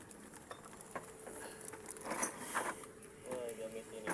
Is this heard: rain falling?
yes